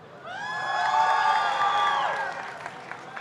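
A TwitchCon crowd at a Lineage 2: Revolution fortress siege event cheers and whoops loudly, swelling for about two seconds and then fading into scattered shouts.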